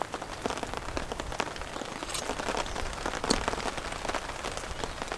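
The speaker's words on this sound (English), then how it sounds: "Nice shots of the rain hitting the water." Rain falls steadily onto a pond's water surface outdoors, a dense, even patter of drops that stays close and constant throughout.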